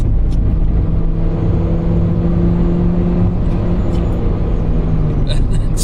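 A Mitsubishi Colt engine runs loud and close, its jet-like droning tone rising and holding as the motor revs, with no talking over it.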